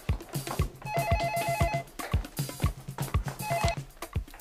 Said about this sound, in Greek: Σήκω το τηλέφωνο.